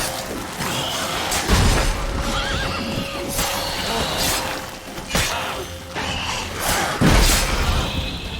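The horse Roach from a video game neighs and whinnies several times over clopping hooves and game background noise, loud and close.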